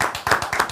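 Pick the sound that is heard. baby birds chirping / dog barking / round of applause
round of applause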